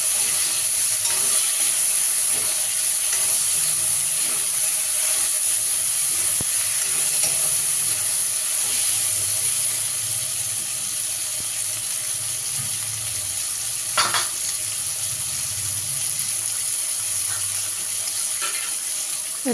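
Tomatoes and onions fry in a pan for pork curry, giving a steady close sizzle throughout with occasional stirring scrapes and small clinks.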